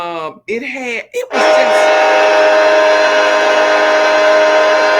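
A passing train sounds a long, steady horn that starts abruptly after some brief talk and holds loud and unbroken to the end.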